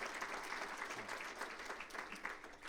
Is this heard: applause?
yes